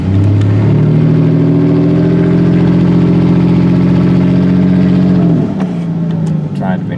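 Ford Ranger scrapyard rescue truck's engine running under gentle throttle, a loud, close, steady hum that eases and drops in pitch toward the end, with a voice talking over it.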